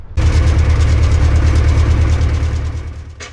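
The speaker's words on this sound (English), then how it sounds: "So here you can see I'm doing a run up of the engine." A small Aeronca Champ light aircraft engine during a run-up: a loud, steady, close propeller-engine drone that starts abruptly and holds for several seconds before easing slightly at the end.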